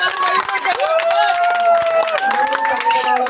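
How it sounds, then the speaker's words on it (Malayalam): Clapping from a crowd at an Onam celebration, steady applause running throughout beneath a loud sung or chanted voice and lively babble. "എല്ലാവർക്കും നല്ലൊരു കയ്യടി"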